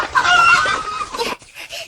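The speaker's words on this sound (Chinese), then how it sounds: "杀大公鸡" A large rooster squawks and clucks loudly at close range in a burst of agitated cries, then gives a few shorter, broken clucks.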